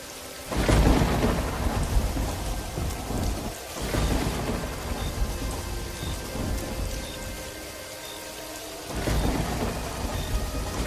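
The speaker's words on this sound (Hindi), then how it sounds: "बिजली की तेज गड़गड़ाहट और बारिश की आवाज से" A thunderstorm with heavy rain: a dense, steady downpour hissing throughout, broken by several loud, deep rolls of thunder that swell and fade, one near the start, another in the middle and a third toward the end.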